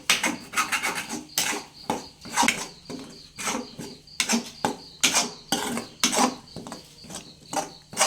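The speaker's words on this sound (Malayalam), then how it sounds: "ഒന്ന് ഇളക്കിയെടുക്കുക." Spoon stirring dry egg roast masala with salt in a pan, a run of repeated scraping and clinking strokes, close and fairly loud, with no talking.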